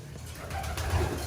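Pigeons coo softly in loft cages, a low murmuring call that is close and steady through a short moment.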